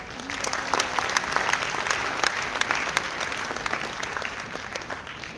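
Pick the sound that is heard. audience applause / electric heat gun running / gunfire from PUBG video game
audience applause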